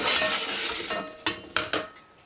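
Blended red clover muffin mixture being worked through a metal sifter, giving a soft continuous rasping scrape punctuated by three sharp clinks of the sifter knocking near the end.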